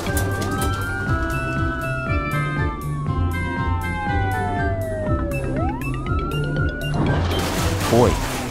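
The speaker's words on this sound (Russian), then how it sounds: "Ой, полицейская машина упала." A cartoon police car's siren sweeps down and back up over background music, then the car falls and hits the ground in a loud crash with a clattering smash near the end.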